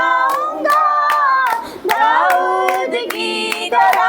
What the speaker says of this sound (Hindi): मैं ताली बजाऊंगा, मैं ताली बजाऊंगा